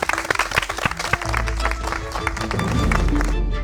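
A live audience applauds a winning team, the Paris bar 1802, at a bartending competition stage event; dense sustained clapping and crowd noise that swells and grows louder toward the end.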